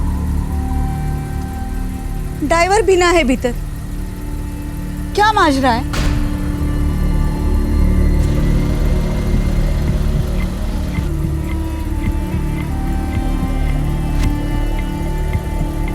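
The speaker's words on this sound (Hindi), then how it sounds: "इंजन में तो चालू है" Innova car parked in a courtyard with its engine left running; a low, steady idle hum continues throughout beneath two short bursts of speech.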